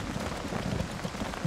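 Heavy rain pours steadily during a hillside flood emergency, a dense, continuous hiss with a few louder low thuds, fairly close and with no voices over it.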